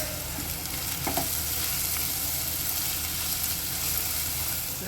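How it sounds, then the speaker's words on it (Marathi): Chopped onion with a little salt sautés in a pan, producing a loud, continuous close sizzle with a brief stirring clatter and no talking. "अशा प्रकारे आपण हा कांदा छान परतवताना"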